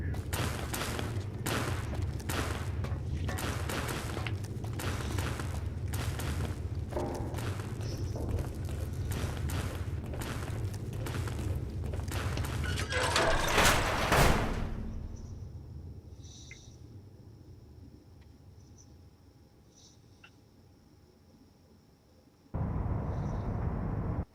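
Rapid bursts of gunfire from Fallout: New Vegas, sharp repeated shots crowding the first half before a final loud blast, then a quiet lull with faint tones and a sudden return of noise at the end.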